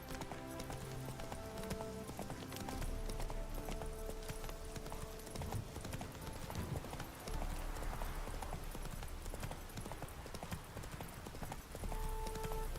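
Horse hooves clip-clop steadily along a road in The Witcher 3, a brisk continuous rhythm of close, clear hoofbeats over soft game music.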